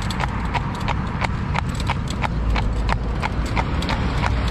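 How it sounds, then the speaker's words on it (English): Barefoot cob horse hooves clip-clop loudly and close in a steady, even trotting rhythm of crisp individual beats over a low background rumble. "if you listen to his hoofs, there's no slide"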